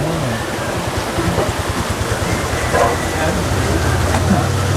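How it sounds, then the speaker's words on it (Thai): A flowing stream beside a riverside eating spot in Mae Kampong, Thailand, gives off a steady, loud rush of water without a break. People talk over it. "ฟังฟังเสียงน้ำไหลด้วยนะ"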